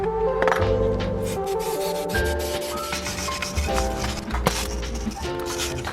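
Scrubbing and rubbing on a car's brake caliper bracket, a close, continuous gritty friction with uneven strokes, mixed with faint clinks and background noise.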